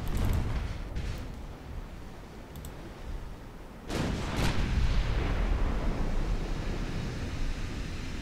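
Naval gunfire in the warship battle game Ultimate Admiral: Dreadnoughts: heavy, booming salvos with a big burst around the middle, over a steady roar like sea and wind, with no talking.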